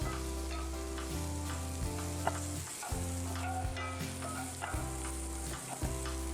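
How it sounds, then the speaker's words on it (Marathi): Sliced onions fry in a pan for Kolhapuri mutton, a steady close sizzle with occasional stirring scrapes, over a strong low humming drone that shifts in steps. "आता कांदा मस्त लालसर होईपर्यंत आणि नरम होईपर्यंत आपण याला भाजून घेऊया"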